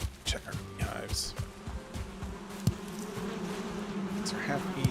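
A steady, insistent buzz of bees swarms around beehives in the video game Valheim. The droning holds for several seconds alongside a few clicks and game sounds, with no talk.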